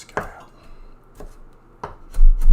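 Knife chopping shallot on a cutting board: a few separate sharp chops, spaced irregularly, end in a louder thumping burst near the close. The sound is close and moderately loud with no speech.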